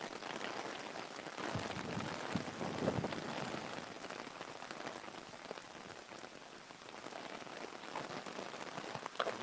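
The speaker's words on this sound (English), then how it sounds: "Let it rain." Steady rain falls continuously at a Disney World park on a livestreamed day, a dense, even hiss of drops on surfaces all around, moderately loud and unbroken throughout.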